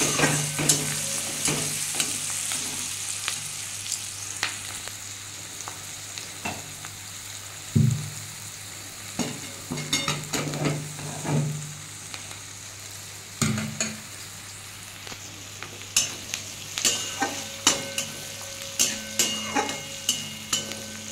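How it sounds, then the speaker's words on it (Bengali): Chopped onions and garlic fry with turmeric in a pan, giving a steady close sizzle broken by frequent scraping stir strokes and light clinks, with no voices. "পেঁয়াজটাকে ভেজে নেবো ভালো করে"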